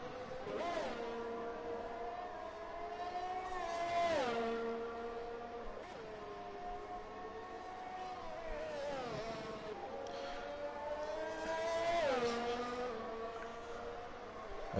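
A Williams race car laps a circuit in a racing video game, its engine droning steadily with rising and falling pitch through gear changes and braking, continuous and close throughout.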